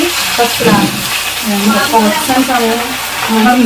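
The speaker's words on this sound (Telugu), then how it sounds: "ఓకే బీరకాయలు వేసేద్దాం" Ridge gourd pieces hit hot oil in a home kitchen pan, giving a steady close sizzle and frying crackle with light stirring scrapes, while voices talk quietly over it throughout.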